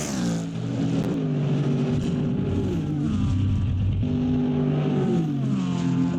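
Ferrari and Corvette race cars in a racing video game at Bahrain, loud continuous engine roar with rising and falling revs through gear changes and corner exits, close and unbroken.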